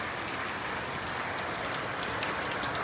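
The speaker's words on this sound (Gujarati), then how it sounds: "અત્યારે તમે જોઈ શકો છો વરસાદ એકદમ જબરદસ્ત ચાલુ જ છે" Heavy rain falls in a steady, dense hiss with fine drops pattering on surfaces, close and unbroken throughout with no voices.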